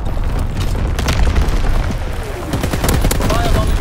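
Booming artillery-style blasts and gunfire from a video game battle, loud and continuous with several dull thuds and sharp cracks layered over a rumbling background, under game voice callouts.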